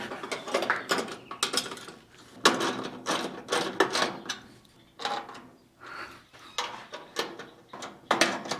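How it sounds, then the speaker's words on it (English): Bolting a part onto the cowl of a Chevy COE truck, a close series of metallic ratcheting and rattling bursts in an irregular rhythm, with short gaps between tool runs. "Now I can bolt this right to the cowl."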